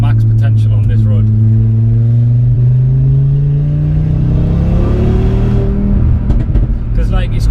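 Audi RS3 road car tuned to 500 bhp accelerating hard on a road, its engine note climbing in pitch through a long pull with a gear change around the middle, loud and continuous, while people talk over it.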